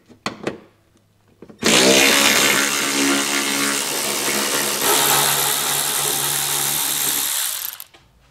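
A power tool with an 8mm socket spins out the underside screws of a car's front bumper fascia: a loud, sustained whirring buzz lasting about six seconds after a few brief clicks, close and steady with no speech.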